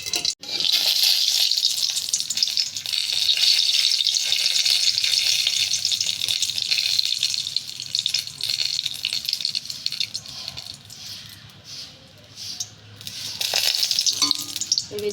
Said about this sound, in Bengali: আর এর মধ্যে একটু জিরে ফোড়ন দিচ্ছি,